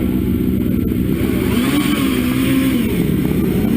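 A GR55 hillclimb race car with a 4-litre Judd engine launches from the line at Gurston Down, a loud, continuous engine roar whose pitch climbs and wavers, with no voices.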